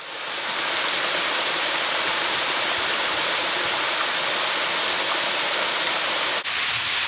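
A mountain stream tumbles down from Monte Zuccaro in a series of waterfalls, a loud, steady broadband roar of rushing water that holds unbroken throughout, with no voices.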